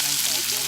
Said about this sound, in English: add a little bit of butter to the pan here. Going to get that nicely sizzling.